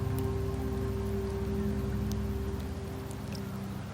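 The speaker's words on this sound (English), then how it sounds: "The rains in Septimont never seem eager to leave this season" Steady rain in the Wuthering Waves video game, a constant soft patter with occasional brighter drop ticks over a low humming drone.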